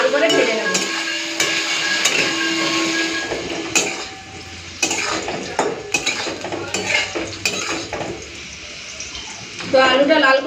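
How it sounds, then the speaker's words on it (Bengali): Potatoes seasoned with salt and turmeric fry in a pan for a Bengali khichuri meal, with steady sizzling broken by metal spatula scrapes and clinks against the pan, close and fairly loud, while a voice talks throughout. "তো আলুটা লাল করে ভেজে নিয়েছি,"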